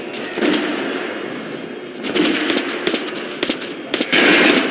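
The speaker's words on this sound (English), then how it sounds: "Try shooting for the center of the regular dummy's chest." Gunfire from the video game Metro Last Light, aimed at a training dummy: rapid bursts of shots with a dense, loud crackle, clustered around the second and fourth seconds over a steady backdrop of game ambience.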